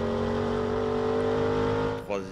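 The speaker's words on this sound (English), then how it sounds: "I'm accelerating a lot." Onboard a race car at Le Mans during the 2016 V de V Endurance Series, the engine holds a loud, steady droning whine under hard acceleration, then drops sharply near the end as a gear changes.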